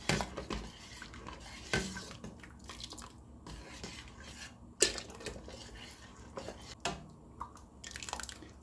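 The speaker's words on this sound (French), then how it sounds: "Petit à petit, je mélange." A mixture is stirred little by little into Moroccan harira soup with lentils, giving faint liquid swirling and scattered clinks of a spoon against the pot, one sharper knock midway.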